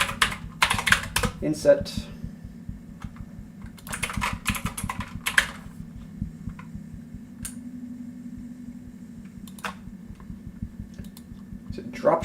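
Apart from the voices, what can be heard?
typing on a computer keyboard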